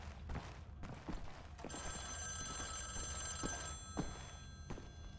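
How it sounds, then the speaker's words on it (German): In Wolfenstein: The New Order, a telephone rings with a sustained bright bell that runs for about two seconds amid soft thuds and footsteps, followed by a sharp knock. "Es klingelt das Telefon."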